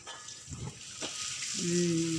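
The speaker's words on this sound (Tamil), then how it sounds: "பிளாச்சான் சம்பால் அதில் போட்டாச்சு இந்த எண்ணெயில் எண்ணெயில் போட்டு என்ன செய்கிறாரு பார்ப்போம்" Belacan sambal hits hot oil in a pan while fried rice is made, giving a soft crackling sizzle that builds and grows steadier toward the end, heard close up with a few faint clatters and no speech.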